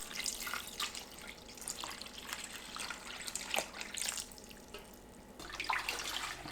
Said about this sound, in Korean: 겉미역에 물 넉넉하게 붓고 10분에서 20분 불립니다.